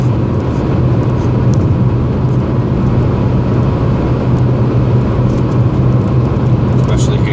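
A 1998 Volkswagen Golf on the Autobahn in rain produces a constant loud interior engine drone with road and rain noise as it accelerates, with the steady hum continuing throughout.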